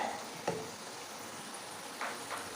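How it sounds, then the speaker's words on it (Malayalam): Homemade French fries bubble in deep oil, a soft steady sizzle close by with a few faint clinks, fairly quiet and continuous. "നമ്മുടെ ഫ്രഞ്ച് ഫ്രൈസ് അതാ ഇവിടെ ഫ്രൈ ആയിക്കൊണ്ടിരിക്കുന്നത് ഒരു ഡീപ്പ് ഫ്രൈ ആയിട്ടാണ് നമ്മൾ ചെയ്യുന്നത്"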